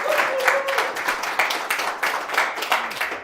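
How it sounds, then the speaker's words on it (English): Conference audience clapping for a speaker, a brief burst of applause that stays fairly steady for about three seconds, with faint voices mixed in. "Thank you for that rapturous applause."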